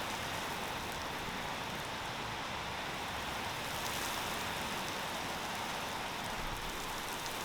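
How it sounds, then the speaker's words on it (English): Heavy rain pours steadily and densely, a continuous broadband hiss of drops hitting surfaces, with no pauses or voices. "it's raining a lot"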